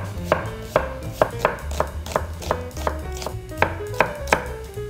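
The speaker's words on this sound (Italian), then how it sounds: "Cipolla rossa. Vedete come la sto tagliando?" A knife chops a red onion into very thin slices on a board, in a steady run of about ten crisp, evenly spaced strikes close by, over a faint tonal background.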